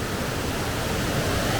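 Huron Falls at Ricketts Glen State Park, a waterfall pouring in a steady broadband rush, close and continuous with no talk.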